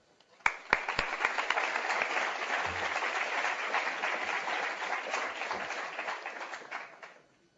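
Audience applause welcoming a panel onto the stage at an evening nonprofit board governance event, a full room clapping steadily and loudly for about six seconds before tapering off, with no talking over it.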